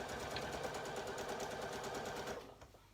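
Sewing machine stitching an elastic waistband, a rapid steady needle rattle and motor hum heard close but at moderate volume, running continuously before winding down just before the end.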